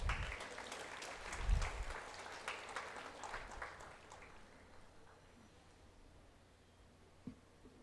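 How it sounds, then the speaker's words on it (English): A graduation ceremony audience claps for about four seconds at moderate distance, then the applause fades into a quiet hall with a faint knock near the end. "Let's give her a round of applause."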